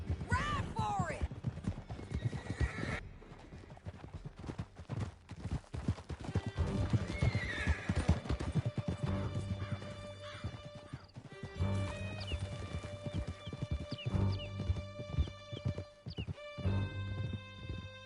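Horses gallop in Red Dead Redemption 2: rapid, loud hoofbeats pound close by, with neighing and whinnies, crashes and voices shouting over the ride.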